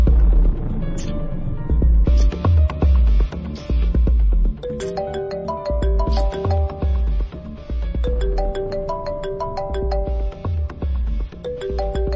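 A melodic phone ringtone plays loudly over a thumping bass beat, its chiming tune looping for several seconds with no one talking.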